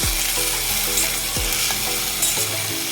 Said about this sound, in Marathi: तर मिरच्या चांगल्या परतल्यानंतर आपण त्यामध्ये बटाटे घालून घेऊ. व आता याला व्यवस्थित मिक्स करून घेऊ.